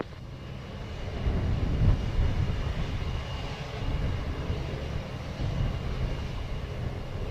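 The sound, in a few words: airplane flying near Montego Bay airport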